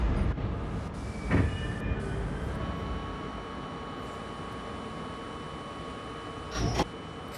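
An R38 subway car on the A line rumbles steadily along the track, with a couple of louder bumps and clanks and faint high tonal whines over the continuous running noise.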